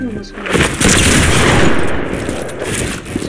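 Rapid bursts of video game gunfire crackle in dense, loud volleys across the whole stretch, with booming impacts mixed in and an excited commentator's voice faintly under the shooting.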